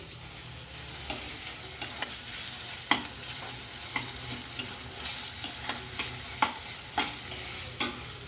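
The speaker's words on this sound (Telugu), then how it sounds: "పేస్ట్ వేసి అల్లం వెల్లుల్లి పేస్ట్ వేసిన తర్వాత జస్ట్ ఒక ఐదు నిమిషాలు అలా తిప్పి" Ginger garlic paste stir-fries in a pan, a soft continuous sizzle broken by a regular run of sharp spatula taps and scrapes, close and fairly quiet.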